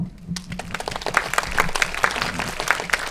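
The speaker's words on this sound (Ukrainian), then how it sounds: "Оплески мама" A room full of people at an event for pregnant women applauds, a dense patter of clapping that swells and carries on steadily for a few seconds.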